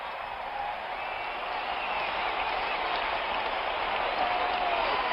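Crowd in a football stadium roars during a Dallas Cowboys game, a dense continuous wash of cheering that holds steady and distant, with no voices standing out.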